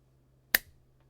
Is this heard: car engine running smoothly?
no